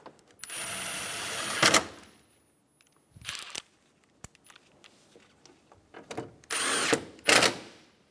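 A power tool drives bumper bolts on a 2012–2020 Chevrolet Sonic front bumper, several short whirring bursts with quiet gaps, clicks and handling noises between, close and fairly loud.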